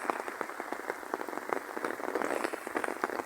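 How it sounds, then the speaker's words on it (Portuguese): Steady rain falls onto a surface, a dense patter of drops that continues evenly and close by with no voices. "essa chuvinha aqui é boa pra dormir ou não é?"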